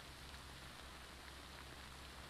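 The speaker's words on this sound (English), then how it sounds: "I'm not sure if the game has the rain as a random event." Rain falls in the video game Death Stranding, a steady, even hiss of downpour with no talk.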